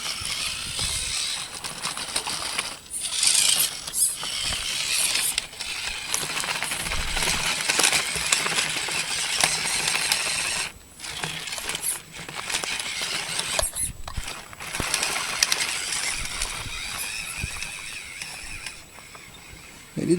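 A WPL C44 RC car crawling over slow obstacles, with steady close-up scraping, rattling and crunching of wheels and chassis on rough ground, broken by a few brief pauses.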